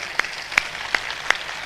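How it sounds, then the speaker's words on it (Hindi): Audience clapping at a live ghazal and geet concert in Dewas in 2003: four sharp, evenly spaced claps in a steady rhythm, fairly close and crisp, with no talk. "खास तौर पे एक बार ताली हाथ उठाकर जोरदार"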